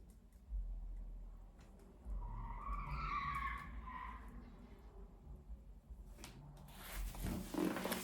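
A car skids through a nearby suburban subdivision street at night, a faint distant tire squeal rising and fading over quiet outdoor ambience, followed by a closer rustle.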